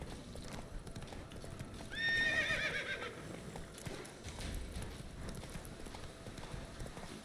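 A horse in The Witcher 3 video game clip-clops steadily at a gallop throughout, with a clear rising neigh breaking out partway through over the hoofbeats.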